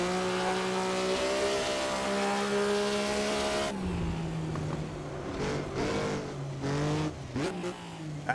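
A 1950s Maserati 250F-style Grand Prix race car drifting through a corner at Pescara in a racing game: a loud, sustained engine note held steady, then dropping and rising through gear changes with brief tire scrubs, no talk.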